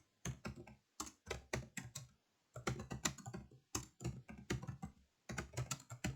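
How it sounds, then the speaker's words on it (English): Rapid bursts of keystrokes on a computer keyboard, close and clear, typed in quick runs separated by short pauses, with no voices. "If you don't feel like typing all that out, you can just type in Daffy Duck or something"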